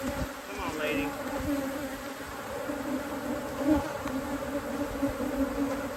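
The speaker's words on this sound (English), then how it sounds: "Shake all the bees down off this" Honey bees buzzing as they are shaken off a hive box, a dense, continuous drone of many insects close by.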